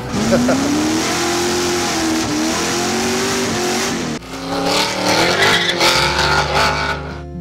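A 1950 Northland Special race car, a winner of the first New Zealand Grand Prix, slides on gravel with a loud revving engine whose pitch rises and falls. Scattering grit hisses behind it and voices talk over it.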